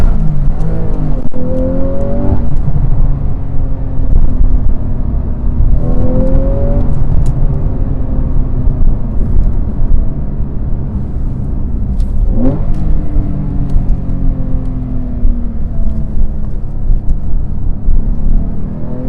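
A loud naturally aspirated flat-six engine in a manual 991.1 Porsche 911 Carrera S revs repeatedly, pitch climbing and falling in sweeps, sustained and close throughout.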